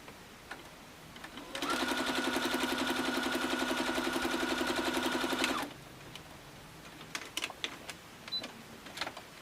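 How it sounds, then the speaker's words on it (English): A sewing machine runs steadily for about four seconds, stitching quilt block pieces sewn right sides together, a close rapid mechanical whirring with fine ticking, followed by quiet handling clicks. "Take it over to the sewing machine and sew."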